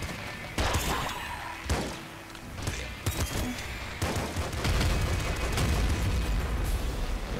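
Rapid gunfire from a sentry gun in the top-down shooter Nuclear Throne, dense overlapping bursts and pops running nearly continuously with a few sharper loud shots, close and busy with no speech.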